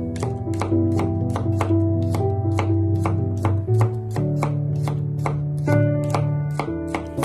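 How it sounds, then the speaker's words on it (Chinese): A knife chops garlic into small bits on a board, with a quick, regular run of sharp, close taps over steady background music and no talking. "准备一些大蒜给它切成蒜粒"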